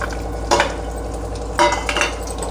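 Dry coconut, onion and garlic roasting in a spoonful of oil, with a steady low sizzle and two bursts of stirring scrapes around the half-second and just after a second and a half.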